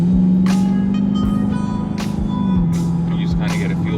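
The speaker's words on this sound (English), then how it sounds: "Driving the car, let you guys hear exactly what I hear as I'm driving." A modified Lexus GS-F is heard from the cabin, with a low, steady exhaust drone and road hum under occasional brief knocks and thumps. Someone talks intermittently over it.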